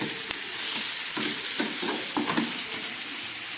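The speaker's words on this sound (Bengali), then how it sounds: "এবারে দিয়ে দিচ্ছি এই মশলা মাখানো লোটে মাছ" Spice-coated Lote (Bombay duck) fish rubbed with cumin, coriander and dried chilli powder sizzles steadily in a hot pan, a dense, close frying hiss with a few soft stirring bumps throughout and no talking.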